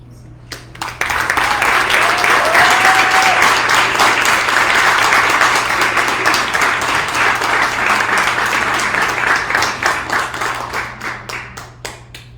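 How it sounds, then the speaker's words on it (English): An audience at a climate-crisis panel event bursts into warm, sustained applause, a loud, dense wash of many clapping hands that holds for about ten seconds before thinning to scattered claps, with a faint voice briefly over it. "another warm hand of applause for Moñeka"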